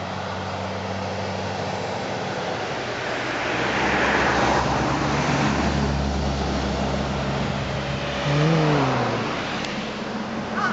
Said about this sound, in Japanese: 結構交通量はね多いんだけどね